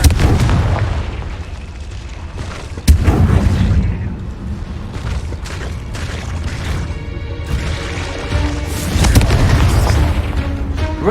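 Blasting Confringo spell explosions in Hogwarts Legacy inside a cave, a sharp booming burst followed by further crashing blasts and rumbling debris over about eleven seconds, loud and close.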